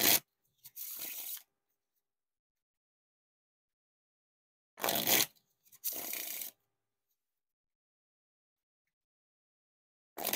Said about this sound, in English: Now time for the Wiffle Shuffle or Bridge Shuffle.